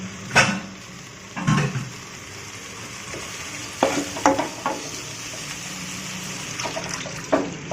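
Bell peppers stir-fried in a pan for Chicken Manchurian sizzle steadily, with several louder scraping stirs at irregular intervals over a continuous close frying hiss.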